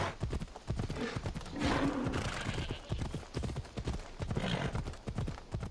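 A horse's hooves clip-clop in a steady, rapid rhythm in Assassin's Creed Odyssey, loud and close, with a whinny mixed in and faint game ambience underneath.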